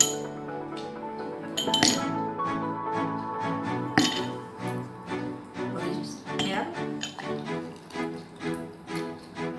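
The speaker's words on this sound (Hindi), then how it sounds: "अब हम गिलास में" Ice cubes drop into a glass for a mango milkshake, giving a run of bright clinks and taps, a few sharper hits among lighter ones, over soft background music.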